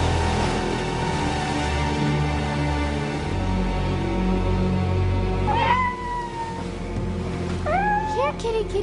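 A cat meows several times, with short rising and falling calls near the middle and again toward the end, heard over a steady low background hum.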